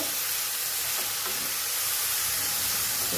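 Chopped onion sautéing in a pan for a pea and cauliflower bhaji, sizzling in a loud, continuous hiss with no voices over it.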